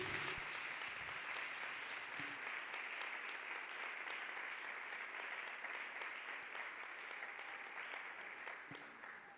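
A church congregation applauds for Jesus in a steady wash of many hands clapping, sustained and fairly distant, gradually easing off toward the end.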